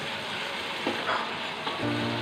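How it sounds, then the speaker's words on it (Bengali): Spice paste cooked down with yogurt and salt fries steadily in oil, a close, continuous sizzle broken by a few stirring scrapes, with no talking. "মশলাটা কিন্তু খুব ভালোভাবে কষানো হয়ে গিয়েছে, দেখতেই পাচ্ছেন যে তেলটা একদম উপরে উঠে এসেছে।"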